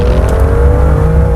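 BMW M2 driving on the road, a loud, steady engine hum with a sustained drone that shifts slightly in pitch as it cruises, continuous and close throughout with no one talking.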